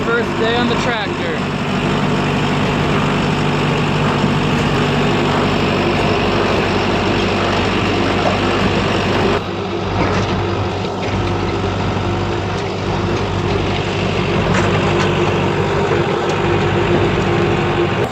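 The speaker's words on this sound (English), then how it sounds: "First day on the tractor." A tractor engine runs steadily with a mechanical transplanter setting high tunnel tomatoes, a loud continuous mechanical drone with clatter throughout, and voices talk faintly beneath it.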